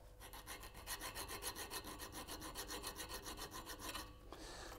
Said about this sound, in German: ich nehme einfach eine kleine Schlüsselfeile und feile hier eine kleine 45-Grad-Phase dran